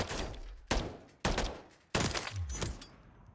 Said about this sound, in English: That's 4 shots on plates, though.